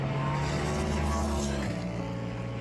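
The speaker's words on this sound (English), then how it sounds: "always cars going by" Race cars roar by on track at the Six Hours of the Glen endurance race, a loud, close engine drone whose pitch drops as one car passes, with no speech.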